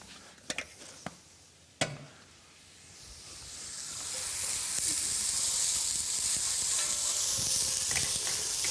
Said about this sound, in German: Jetzt die Zwiebeln hineingeben. Ganz leicht andünsten, keine Farbe nehmen lassen.